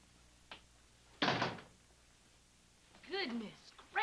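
A door is shut with a single solid thunk in an indoor room, preceded by a faint knock and followed by a person speaking.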